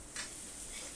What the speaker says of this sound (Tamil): வெங்காயம் போட்டு நல்லா வதக்குங்க.